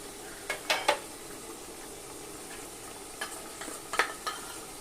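Fried lentil dumplings (bori) are tipped into a pan of vegetarian bottle gourd greens (lau shak), giving a few soft, scattered clattering clicks and stirring scrapes, faint and close, with no voices.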